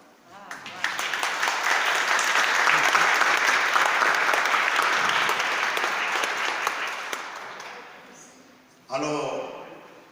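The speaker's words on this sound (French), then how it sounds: "un deuxième applaudissement pour toutes les personnes que je ne connais pas" A church congregation at Mass claps together in a full, sustained round of applause that builds quickly and tapers off, then a speaker's voice comes in over the last of the clapping.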